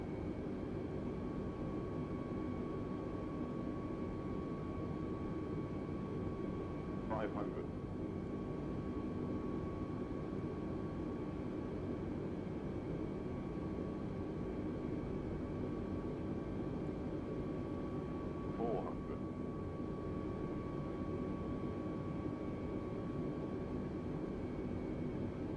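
Steady, loud jet engine drone from an Airbus A320neo in Microsoft Flight Simulator 2020, a continuous broadband rumble with faint tonal whine, holding level with no talk.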